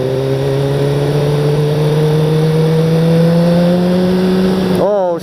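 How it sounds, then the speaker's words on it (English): A single car passes on a canyon road at night, its engine note climbing steadily as it approaches, loud and close, then swooping away with a sharp drop in pitch as it goes by. "That's the first car I've seen in 6 hours up here."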